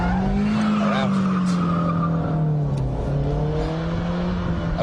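A front-wheel-drive car drifting as the handbrake is yanked and the rear wheels lock: a loud, sustained tire skid and squeal rides over a steady engine drone for several seconds, close by.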